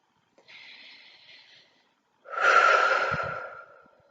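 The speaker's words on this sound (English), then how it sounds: "Deep breath in and out." Deep breathing during an EFT tapping session: one softer inhale, a short pause, then a longer, louder airy exhale, close and alone.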